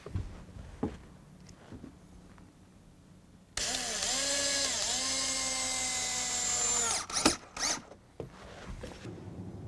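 A power drill drives screws into the seat-frame posts of a wooden deck, one sustained whirring run of several seconds that rises in pitch, set apart from the quieter outdoor background before and after it.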